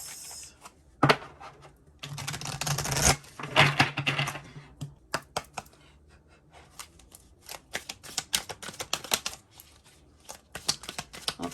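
Tarot cards being shuffled by hand, with a dense riffling burst followed by a run of crisp card snaps and flicks, close and fairly quiet with no talking.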